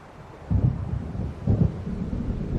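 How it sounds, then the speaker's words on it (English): Thunder of a storm in Alan Wake Remastered, heard as two heavy, close rumbling booms about a second apart over a bed of wind and rain. "It seems there's a storm coming."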